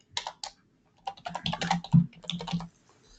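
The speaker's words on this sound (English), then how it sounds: "my typing's a little loud too" Typing on a computer keyboard during a work webinar: quick, close bursts of clicking keystrokes, with a short pause before a longer run of typing.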